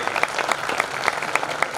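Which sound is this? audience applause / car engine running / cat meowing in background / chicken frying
audience applause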